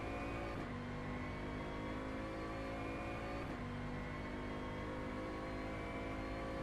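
A Bentley Continental GT3 race car engine drones steadily at high revs during a night race at Palm Beach International Raceway in Automobilista, with brief gear-shift dips and a continuous close onboard whine.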